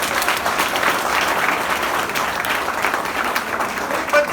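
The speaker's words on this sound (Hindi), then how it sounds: "ताली बजते हैं।" An audience claps throughout a college freshers' comedy show, the applause dense, steady and close, with no break over a few seconds.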